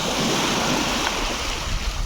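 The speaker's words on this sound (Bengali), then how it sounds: "সমুদ্রের শব্দটা হয়তো আপনারা শুনতে পাচ্ছেন।" Sea surf at a coast during low tide makes a continuous, loud, broad roar of breaking waves, with wind buffeting the microphone throughout.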